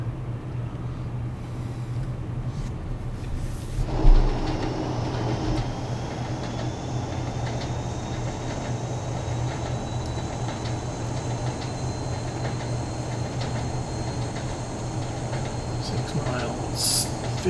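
A Class 47 diesel locomotive hauls a train along the rails in Train Sim World, a steady rumbling diesel drone with rolling rail noise and a brief thump early on, continuous and fairly close throughout.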